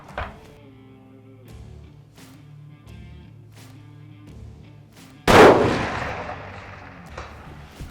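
A single loud rifle shot rings out during a South Texas whitetail deer hunt, a sharp close blast with a long rolling echo after a quiet stretch of low engine-like hum.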